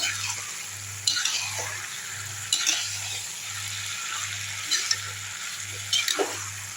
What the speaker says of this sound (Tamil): இந்த சிக்கன் எடுத்து போட்டுடலாம் கரெக்டாக இருக்கும் இப்போது நல்லா கலக்கி விட்டுடலாம்